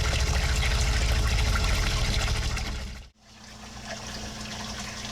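Water circulating through an aquaponics filtration system under repair after a freeze, a loud continuous rushing and splashing flow that briefly dips to near silence before settling back into a steady trickling gush.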